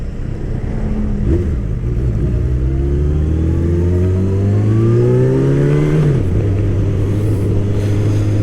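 A motorcycle engine revs up steadily, its pitch climbing for several seconds before dropping back to a rough, rumbling idle, close and loud.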